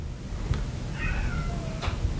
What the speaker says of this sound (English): I don't know if you can hear her meowing at the door.